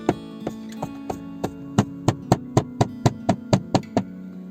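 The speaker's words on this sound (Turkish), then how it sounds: "Aracın şu kısmından şu şekilde vurarak" Sharp knocks on hollow plastic interior trim of a Peugeot 206, starting slowly and speeding into a quicker, even series of about fifteen taps over a faint steady hum.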